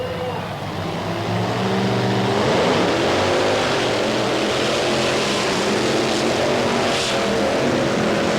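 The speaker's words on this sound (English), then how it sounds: "Well, both trucks had a very tentative start, but by the length of a fender, it was Greg Holbrook in equalizer." Monster trucks race side by side at a Myrtle Beach, South Carolina event, engines roaring loud and steady as they accelerate, a continuous heavy drone throughout with a crowd-filled arena backdrop.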